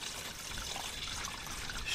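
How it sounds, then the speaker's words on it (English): Water drains out of a flooded Ford F150 pickup truck in a steady, faint trickling pour that continues without a break, with no voices over it. "That is a very large quantity of water."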